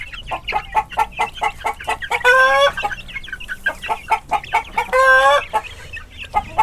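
Chicks and hens just let out of a cage cluck and peep close by, with rapid chirps and two louder bursts of hen cackling standing out from the flock chatter.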